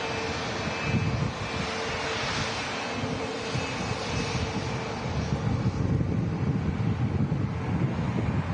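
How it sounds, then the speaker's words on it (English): A Eurowings-operated Airbus airliner arriving at Manchester Airport from Dusseldorf in stormy weather, its engines a steady broad roar mixed with gusting wind noise across the whole stretch, with no talking. "this is actually doing a flight on behalf of Eurowings coming in from Dusseldorf."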